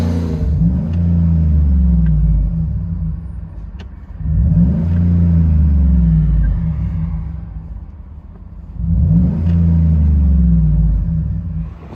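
Cabin-interior recording of a 2007 Ford Expedition XLT with a 5.4L Triton V8 and Vibrant exhaust with bottle resonator: three deep, booming rev surges, each swelling loud then easing back to a droning idle rumble.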